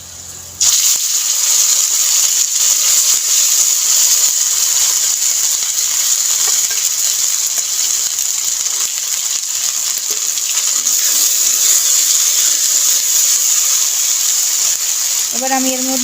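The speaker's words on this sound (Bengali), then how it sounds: "এখন আমি আগে থেকে বেটে রাখা মশলাটা দিয়ে দেব।" Ground spice paste hits hot oil for a village-style rohu fish curry with cauliflower and potato, setting off a loud, steady hissing sizzle that starts abruptly and continues throughout, with a few clinks near the end.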